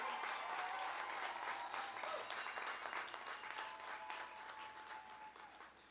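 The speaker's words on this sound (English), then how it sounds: "give these inspiring young students a resounding round of applause" Sustained applause from a graduation ceremony audience honoring the graduating class, a dense wash of many hands clapping that holds steady for several seconds and eases slightly toward the end.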